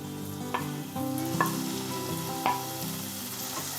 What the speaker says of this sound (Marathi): आता ह्या वाटा मी चांगल्या तेलात परतून घेत आहे